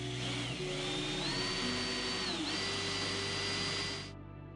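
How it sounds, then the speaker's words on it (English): Power drill boring out spot welds in the rusted cab floor of a Talbot Express campervan, a loud whining motor with pitch shifts as it bites into the steel, then spinning down. "Lots of spot welds to drill out before I could start cutting."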